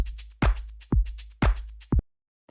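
A short programmed drum beat: four punchy kick hits with bright hi-hat ticks between them, then it cuts to silence.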